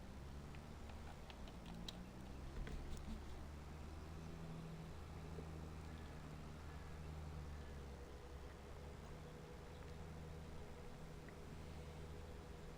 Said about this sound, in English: let's go back to our tractor and get out of everybody's way, or at least start moving down the road